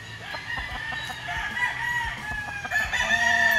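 Kelso game farm stags crowing at close range, a loud drawn-out cock-a-doodle-doo rising over a busy background of clucking and other fowl calls, with no talking.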